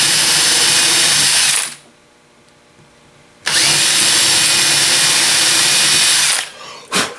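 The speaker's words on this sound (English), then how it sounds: "Take my other drill bit. I just want to go a little bit deeper." A power drill bores deeper into a walnut workpiece, whining loudly for about two seconds, pausing, then running steadily again for another three seconds before a brief final burst.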